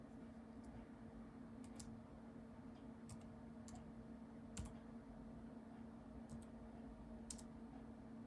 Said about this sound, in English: Typing one-handed while I block off the screen here.